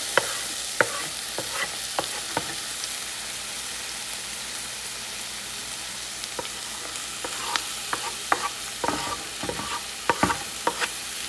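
Bell peppers, carrots and other vegetables are stir-fried for poha in a home kitchen pan, a steady close sizzle with scattered sharp clicks and scrapes of a spoon stirring, and no talk.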